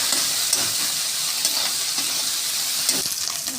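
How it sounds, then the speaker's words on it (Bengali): Shrimp frying in oil with turmeric and salt, a continuous loud, close hiss and sizzle with faint stirring knocks, no talking. "চিংড়ি মাছে হলুদ দিয়ে দিলাম 1 চামচ, আর স্বাদ মতো অল্প নুন দিয়ে দিলাম, দিয়ে ভালো করে লাল লাল করে ভেজে নেব"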